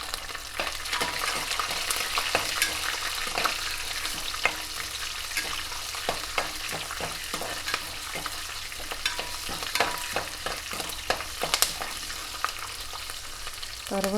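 Four or five green chilies fry in hot oil for Andhra-style lemon rice, giving a steady, fairly soft sizzle dotted with frequent crackles and pops throughout.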